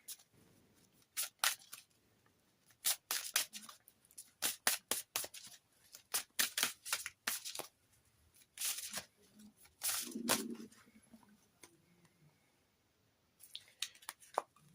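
Oracle cards being shuffled before a draw, quiet close-up bursts of riffling and swishing in uneven spurts with pauses between them.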